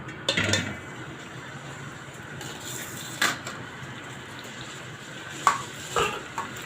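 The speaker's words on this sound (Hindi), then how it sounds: "अब हमने इस घी के अंदर पहले अपने चावलों की तह लगानी है" Rice being layered into ghee in a cooking pot while making zarda, a sweet rice dish. Soft scraping and stirring runs throughout, with a few sharp metallic clinks of utensil against pot, some in quick pairs; no voices.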